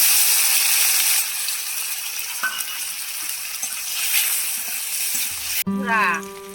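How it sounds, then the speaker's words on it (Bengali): Onions and tomatoes fry with five-spice (panch phoron) in a pan, giving a loud, steady sizzling hiss for several seconds that ends abruptly, followed by a brief voice. "পাঁচ ফোড়ন দিলাম এবার আমি পেঁয়াজগুলো দেবো টমেটো দেবো"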